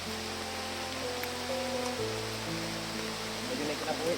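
Heavy rain pours steadily outdoors in a broad, even wash of noise, with faint voices in the background.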